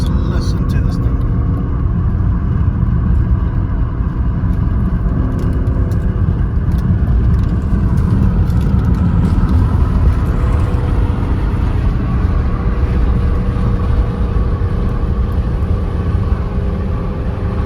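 A BMW E39 523 car engine runs steadily, a dense continuous low rumble that stays close and loud throughout, with faint voices in the background.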